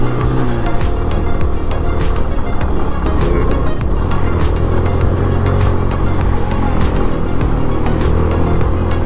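An off-road vehicle labours up a steep mountain track to Ratti Gali lake in Neelum Valley, Azad Kashmir, its engine droning loudly and continuously with rattling bumps over rough ground, no speech over it.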